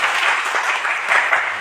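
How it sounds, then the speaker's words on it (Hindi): An audience at a business meeting breaks into a short burst of applause, many hands clapping together for under two seconds, close and fairly loud, with no talking. "एक बार ताली बजाओ।"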